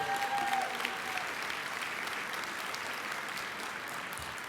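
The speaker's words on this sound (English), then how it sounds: "if you'd all give them a round of applause" A gala audience applauds the commissioners gathered on stage at an annual convention awards night, a full, sustained round of clapping from a large crowd that stays steady and unbroken across the clip.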